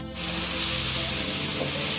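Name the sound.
flat beans frying in a pan with salt and turmeric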